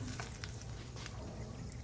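Hot tempering oil sizzles faintly as it is poured over coconut chutney and stirred, a soft crackling hiss with small clinks of the spoon, quiet and close.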